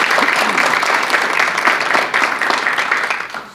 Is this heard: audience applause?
yes